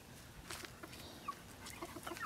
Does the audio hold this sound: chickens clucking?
yes